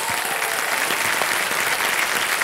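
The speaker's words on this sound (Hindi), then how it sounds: "तालियां बज जाएं इनके लिए।" Loud, dense applause from a large game show studio audience fills the whole stretch, steady and continuous with no break.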